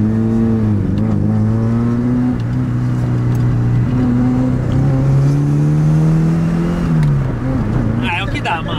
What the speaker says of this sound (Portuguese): Dá uma aceleradona pra vocês verem, ó.